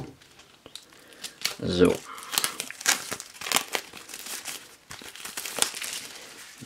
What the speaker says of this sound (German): Als erstes werde ich natürlich erst einmal vorsichtig hier die Folie entfernen.